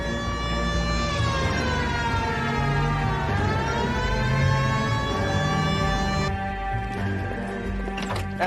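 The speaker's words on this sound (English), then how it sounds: "Hit the siren." A police car siren wails loud and continuous in the video game L.A. Noire, with its rising and falling tone sweeping over engine rumble and street noise.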